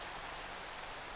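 Steady rain pours down in the blocky survival game Minecraft, played in hardcore mode near a jungle, a dense even hiss of drops with no other sounds above it.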